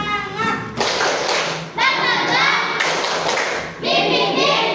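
Children perform the tepuk semangat spirit clap, a group of young voices chanting loudly in bursts with rhythmic clapping and thumps mixed in.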